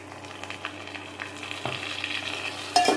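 Ginger, green chili and garlic paste sautéing with onions in a pan, a soft close sizzle with scattered stirring scrapes and a louder clatter near the end, no talking.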